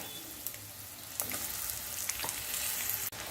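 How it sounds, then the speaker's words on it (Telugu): Wood apple pulp mixed with salt, chili powder and fenugreek powder is stirred in a hot pan, giving a steady frying sizzle broken by scraping stir strokes and a few sharp clicks. "గుజ్జు ఉప్పు కారం మెంతిపిండి కలిపిన గుజ్జు ఉంది కదా దాన్ని ఇందులో వేసేసి తిప్పుకోవాలి"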